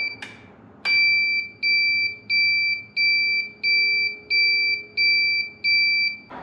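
Rhythmic electronic buzzing from a motorcycle turn-signal flasher buzzer, eight evenly spaced piercing pulses, close and loud, preceded by a couple of clicks.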